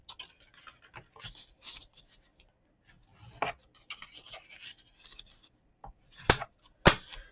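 Soft scattered rubbing and scraping of a tool burnishing score lines on card for a small gift box, quiet and irregular with a few sharper taps near the end.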